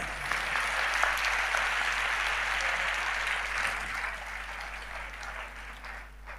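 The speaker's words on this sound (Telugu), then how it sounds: "మీరు చప్పట్లు కొట్టారు" Steady applause from a church audience, a dense wash of many hands clapping at a moderate distance that fades slightly toward the end, with no voices over it.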